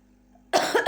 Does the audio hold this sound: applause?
no